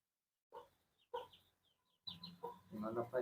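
Country chicks cluck in short bursts and trills at close range. Quiet gaps separate the calls at first, and they grow busier and denser toward the end.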